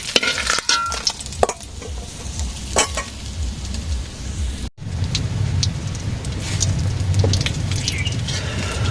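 Pointed gourd (potol) slices frying in a pan, a steady close sizzle with bursts of crackle and a few clinks of stirring at the start, the sizzle continuing strongly throughout.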